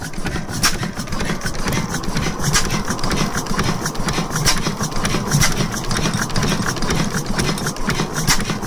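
Old engine runs close by with a steady rough clatter and rhythmic knocking, a busy mechanical churn that holds an even pace throughout, with no talk audible over it.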